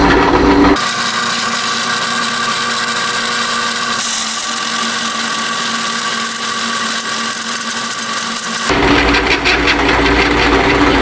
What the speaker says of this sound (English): I bought this because it's carbide. I thought, well, we'll see how well it drills.